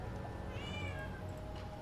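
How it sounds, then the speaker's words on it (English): A house cat gives a drawn-out, rising and falling meow over a constant low background hum, a single clear call with no one speaking. "Be quiet, kitty cat."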